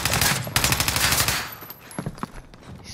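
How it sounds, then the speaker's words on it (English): Rapid automatic gunfire in Warzone gameplay, a dense rattling burst up close that thins into scattered sharper shots toward the end. "I'm taking fire."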